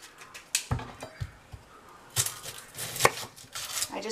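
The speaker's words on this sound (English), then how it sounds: "I just slice the top off" A knife cuts through an onion on a board in a handful of irregular, close knocks and crisp slicing strokes, with short quiet gaps between them.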